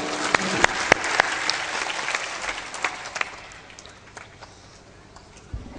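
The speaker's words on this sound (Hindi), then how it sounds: "ताली बजा दो" A crowd applauds with scattered sharp claps that fade gradually over several seconds, loud at first then thinning out.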